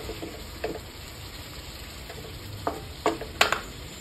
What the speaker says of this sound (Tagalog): Lagyan natin ng water para malata yung